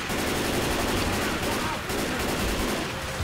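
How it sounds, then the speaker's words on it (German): Gunfire in the video game Left 4 Dead 2, a dense, loud burst of rapid automatic shots running continuously with little pause, close and heavy. "Habt ihr die Schüsse nicht gehört?"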